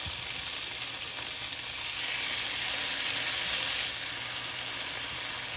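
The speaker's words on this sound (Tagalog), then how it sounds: "I start sauteing garlic and onions." Garlic, onions and tomatoes sauteing in a pan give off a steady, even sizzle that holds at a constant level throughout, with no voices.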